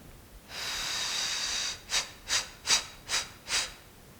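One long, forced exhalation is followed by five short, sharp puffs of breath in an even rhythm, like blowing out a candle during pelvic floor exercise; close and breathy, with no talking.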